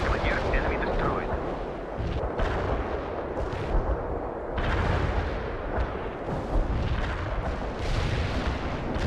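Heavy artillery in World in Conflict pounds away as a dense, continuous barrage of deep booms and rumbling blasts, loud and overlapping throughout, with battlefield radio voices mixed underneath.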